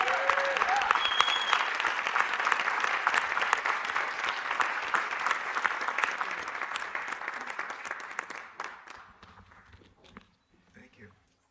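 Audience applause for a speaker, loud and dense at first, then thinning and fading to scattered claps before a voice begins to speak near the end.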